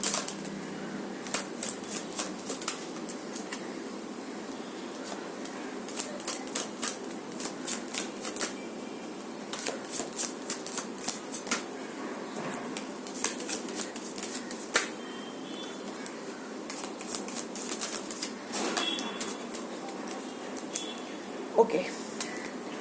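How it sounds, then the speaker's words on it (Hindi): Tarot cards are shuffled by hand in a quiet room, producing repeated soft riffling bursts and crisp flicks that come in irregular clusters, close and moderately loud, with a few light taps between them. "One shuffle, what ever card that comes."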